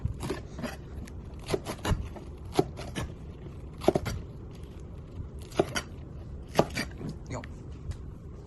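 A knife cutting spring onion on a board, sounding as a dozen or so sharp, irregular chops close up, with a speaking voice and low background noise between the cuts.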